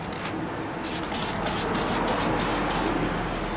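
Spray paint can hissing out gloss black paint onto an OEM car wheel, a steady broadband spray with several brief pauses and bursts, close and fairly loud throughout.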